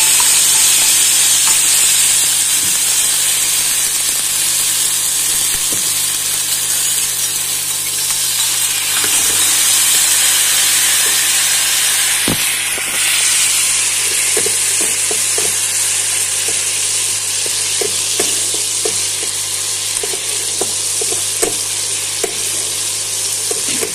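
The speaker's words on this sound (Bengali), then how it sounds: "এবার আমি এতে একটুখানি আদা বাটা আর টমেটো একসঙ্গে পেস্ট করে নিয়েছি, সেটাও দিয়ে দিলাম।" Ginger and tomato paste sizzling steadily in a pan of hot oil while cooking paneer butter masala, a continuous loud frying hiss with occasional stirring clicks and scrapes and no speech.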